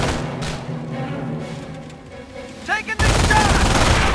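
Battle noise in the war game Company of Heroes, set at Carentan: a rumbling, murky stretch with shouted voices, then a sudden dense burst of loud, continuous rattling gunfire and explosions.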